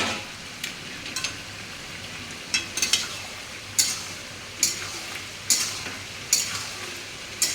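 Curry frying in a pan being stirred, a steady sizzle punctuated by regular spoon scrapes and knocks every second or so, close and clear with no talking.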